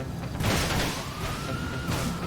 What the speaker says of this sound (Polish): policja mnie jeszcze goni